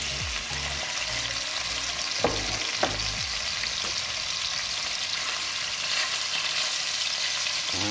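Beef chunks brown in a hot pan for bœuf bourguignon, a dense, steady close sizzle with a couple of brief scraping turns of the meat and no one speaking.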